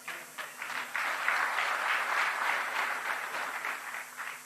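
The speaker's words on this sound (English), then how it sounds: "Why are you clapping softly?" Soft, steady applause from an audience at an engineering institution's AGM and symposium opening, a smattering of claps building quickly and holding at a moderate level for several seconds before thinning slightly.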